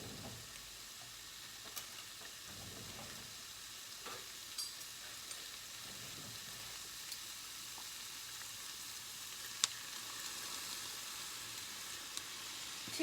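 Fried rice with prawns, vegetables and fresh peppers is stir-fried, giving a faint continuous sizzle with scattered light clicks and taps of the utensil against the pan.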